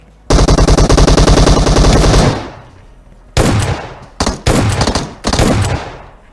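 Automatic rifle fire in PUBG, a loud continuous burst of rapid shots lasting about two seconds, then after a pause several shorter bursts of gunfire, close and dominant with no talk.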